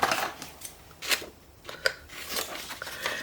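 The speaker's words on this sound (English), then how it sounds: "then I'll cut him out with my little round punch thingy" Paper being cut out into a shape for a handmade wreath craft journal: a few crisp, close snips come in quick succession, with no talk.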